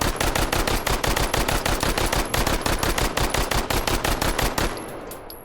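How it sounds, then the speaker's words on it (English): Rapid sustained automatic fire from the Phantom 9 gun in the VR shooting game H3VR, a loud, dense burst of evenly spaced shots lasting several seconds before cutting off into a brief fading tail. "Fire the gun."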